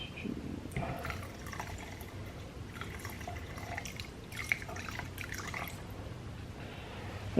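Activator is poured into an automotive primer mix for a Jensen GT hood, giving a faint, quiet trickle with scattered drips over low background noise.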